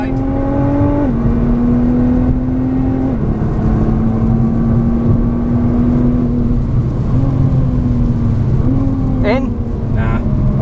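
2017 Nissan GT-R at full throttle lapping Spa-Francorchamps in torrential rain, engine loud and steady in the cabin with rising revs, several quick gear shifts and brief dips, and voices talking over it.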